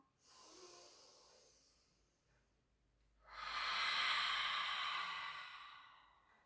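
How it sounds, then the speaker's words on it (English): Slow, deliberate breathing during a Pilates exercise for hips and back: a soft inhale, a pause, then a longer, louder exhale close by, with no talking. "inhale back up, out breath"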